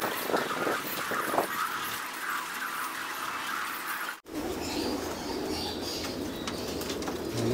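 Pigeons at a loft and aviary, moving through a training box, with cooing and wing flaps amid steady outdoor noise; a brief dropout midway, then a denser, brighter wash of background sound.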